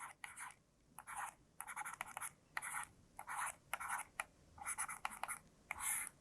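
Pen or pencil writing out matrix entries for a determinant problem in a maths lesson, a series of close, soft scratchy strokes in short bursts with brief pauses between them.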